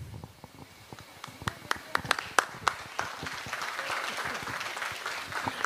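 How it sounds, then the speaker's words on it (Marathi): Audience applause at a state-level karaoke competition award ceremony, with separate sharp claps at first that build into a denser, fuller round of clapping from a crowd. "तुमच्यासाठी टाळ्या वाजल्या पाहिजेत अशा वाजवा की राव"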